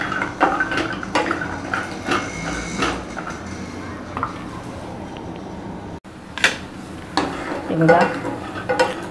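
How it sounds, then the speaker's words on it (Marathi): Cashews roasting in ghee in a pan while being stirred, scraping spoon strokes and light clinks over a soft sizzle, with someone speaking briefly. "आपण असं तुपामध्ये भाजून घेऊ, असं फ्राय करून घेऊ"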